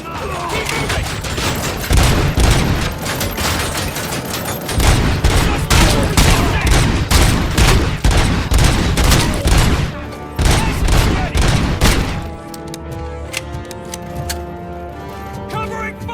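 Gunfire in the Robocop: Rogue City video game: sustained, loud volleys of rapid automatic shots in a chaotic firefight, pausing briefly, then tapering into a quieter ringing tail, with shouted voices mixed in.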